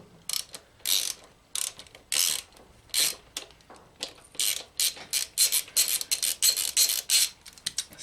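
A ratchet wrench with a 19mm socket loosens the filler bolt on a Yamaha XV 500 Virago engine, giving close, rapid bursts of clicking strokes in an uneven rhythm, with no talking.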